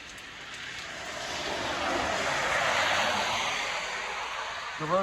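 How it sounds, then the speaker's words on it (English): Steady rain falls outdoors on a stormy morning as a hurricane approaches, a broad continuous hiss that swells slightly midway and holds throughout, with a faint vehicle-like rumble underneath and no voices. "the rain has started"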